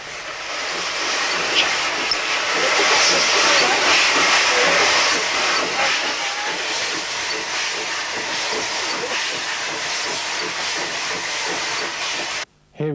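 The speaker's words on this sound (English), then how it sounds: "We'll see a goods train worked from Tenterden by Fenchurch." Steam tank engine Fenchurch, a Terrier, hauling a goods train out of Tenterden on a heritage railway, a loud continuous steam hiss and rolling rumble that holds steady before cutting off sharply near the end.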